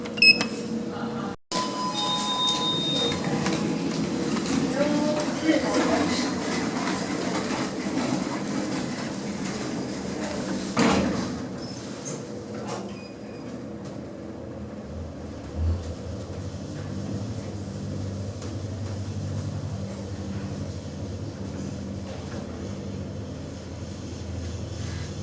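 A Schindler machine-room-less lift rides between floors: a steady, fairly loud mechanical rumble and hum runs throughout, with a brief jolt near the middle before the drone settles into a lower tone.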